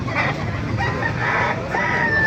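A rooster crows at a busy outdoor market in Baliuag, its call rising over steady background noise and a faint murmur of voices.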